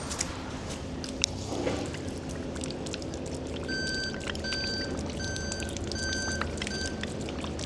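Murky water gushes out of the hose of a brand-new hot water pressure washer bought at auction, a continuous splashing rush with a short run of faint electronic beeps in the background.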